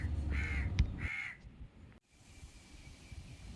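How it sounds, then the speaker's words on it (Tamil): Crow cawing in alarm near its nest in a neem tree at an old hillside fort, two loud harsh caws close by, followed by quieter outdoor ambience. "காகம் வந்து கூடு கட்டி குஞ்சு பொறிச்சிருக்கு போல் இருக்குது அதனால் பயந்து கத்திக்கிட்டே இருக்குது"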